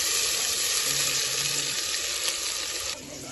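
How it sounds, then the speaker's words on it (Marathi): Onion and tomato paste sizzle loudly in hot oil in a village kitchen, a steady close frying hiss with faint stirring that eases slightly near the end. "आता तेल गरम झालं टाकलेलं आहे मध्ये. कांदा व टोमॅटो पेस्ट आपण टाकून घेऊ."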